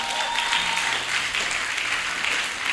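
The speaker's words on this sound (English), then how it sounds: "Clap for yourselves" A seminar audience in Gombe applauds itself, a steady wash of many hands clapping at even loudness throughout, with a faint voice or tone briefly audible beneath.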